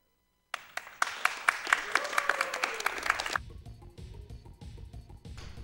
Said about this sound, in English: Can we get another round of applause for our runner, everybody?